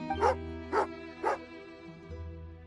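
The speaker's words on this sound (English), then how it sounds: "Oh, angry doggy." An angry dog in the Genshin Impact video game barks three times in an even rhythm, loud and close, over a low steady hum of game background.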